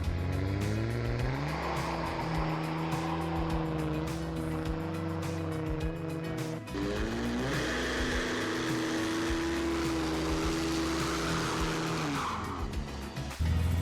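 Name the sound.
2005 Cummins truck doing a burnout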